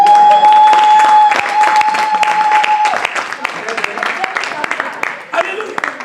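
A church congregation applauds loudly in acclaim during a worship service, the clapping mixing with voices, a held musical tone early on, and uneven bursts of claps toward the end.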